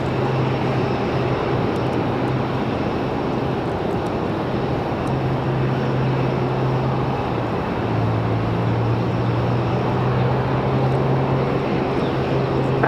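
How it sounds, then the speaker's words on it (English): A jet airliner takes off from runway 23 right at Raleigh-Durham airport, producing a loud, sustained engine roar with a steady low drone throughout. "runway 23 right, clear for takeoff"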